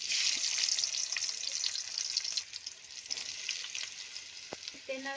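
Chopped onions sizzle in a little hot oil in a large wok, a steady bright crackle with occasional stirring scrapes of a big spoon.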